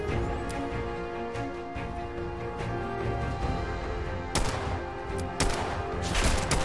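Gunfire in a modded Fallout 4 firefight on Survival difficulty, with enemy squads shooting. Repeated sharp shots and short bursts crack at irregular intervals over a busy background, with a couple of louder close reports near the end.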